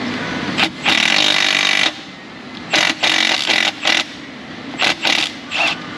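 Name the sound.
3/8 inch impact gun driving a stud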